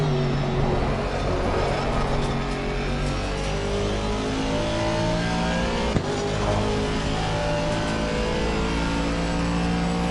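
A race car engine at Donington Park, loud and close, droning and revving steadily through a downshift with a brief sharp click near the middle.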